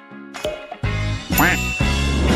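A cartoonish duck quacks several times in short, loud bursts, with a light jingle and background music filling the gaps between calls.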